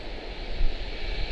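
An airplane arriving at Charlotte-Douglas airport gives a steady, distant engine rumble and hiss, with no voices over it.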